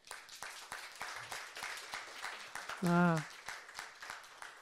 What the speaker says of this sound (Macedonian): Еден аплауз до тебе.